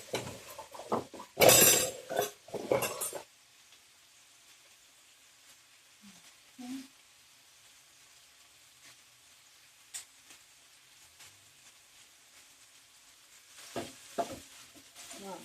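Chorizo sausage and leftover chicken strips being smashed and stirred in a pan, a burst of scraping and sizzling at the start, then quieter occasional scrapes and taps, with more stirring near the end.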